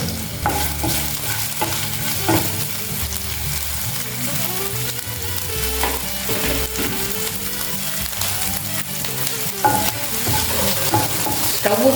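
Green chilli pieces fry in about two tablespoons of oil over high heat, giving a continuous loud sizzle and crackle with occasional stirring scrapes, close and without talk.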